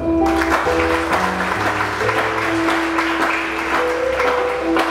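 Applause in a church during a religious wedding ceremony, a steady wash of clapping from the congregation with organ or sustained tones ringing underneath, continuous throughout.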